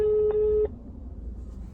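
An outgoing phone call gives one loud, steady ringback tone for about two-thirds of a second. It then cuts off, leaving a quiet background hiss.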